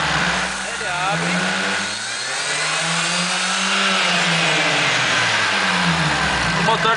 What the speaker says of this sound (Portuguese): Quando eu venho aqui e acelero gradativo